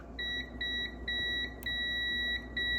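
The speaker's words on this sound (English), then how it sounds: "this multimeter has a tone generator to show when there's continuity" A multimeter's continuity tone beeps while probing garage door opener wiring: a steady, piercing electronic tone held for long stretches with brief dropouts, close and loud against a faint background hum.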